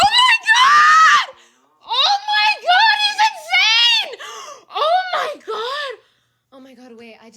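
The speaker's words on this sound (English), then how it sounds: "I literally just got lightheaded because I screamed too hard" A woman screams very hard in several loud, strained bursts separated by short pauses, with laugh-like yelps mixed in and a softer vocal sound at the end.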